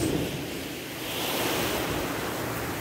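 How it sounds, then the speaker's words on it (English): Ocean waves surge onto a beach in a steady, rolling wash, joined by wind buffeting the microphone. The roar swells and eases, loud and near, with no voices. "I think it's the sound of the waves"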